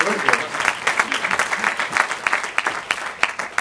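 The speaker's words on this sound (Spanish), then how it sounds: "Un aplauso para él, por favor. Más fuerte, más fuerte." Audience applause for a panelist at a media debate, a short burst of brisk clapping with uneven rhythmic peaks and crowd voices mixed in.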